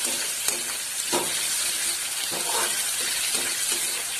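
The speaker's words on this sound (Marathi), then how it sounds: "आता त्याच्यामध्ये आपण टोमॅटो घालूया. टोमॅटो पण चांगले फ्राय करून घ्यायचे." Tomatoes fry in a pan for ghevda bhaji, giving a steady bright sizzle broken by soft clinks and scrapes of stirring.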